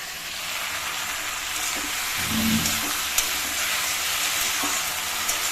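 Food frying in a pan of oil, a steady broadband sizzle that holds up close the whole way through, with a louder spitting burst near the middle and a few faint clicks of stirring.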